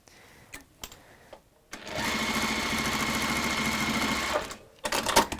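A sewing machine stitches fabric in a steady loud whirring run of about three seconds, framed by a few quiet clicks and handling noises before and after.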